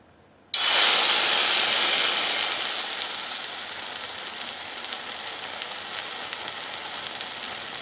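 Water on a DIY tea-light survival stove bursts into a sudden loud hiss that settles into a steady, fainter sizzling boil.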